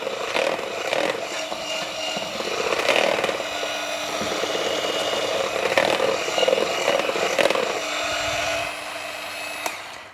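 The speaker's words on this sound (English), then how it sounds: "We whisk it all together, incorporate everything very nicely." An electric whisk beats keto cream cheese cake batter in a bowl with a continuous close, buzzy motor drone. Clattering knocks from the beaters hitting the bowl recur over about ten seconds.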